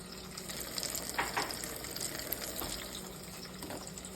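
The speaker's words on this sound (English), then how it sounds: "But we're gonna fry some ribs." Leftover pork ribs fry in hot oil with a soft, steady sizzle and a few brief bubbling bursts, fairly quiet and close.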